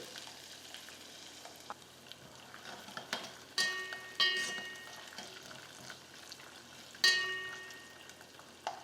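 Green chillies, asafoetida and coconut pieces sautéing with peanuts in a pan, a quiet steady frying hiss broken by a few sharp utensil clinks and scrapes against the metal, no talking.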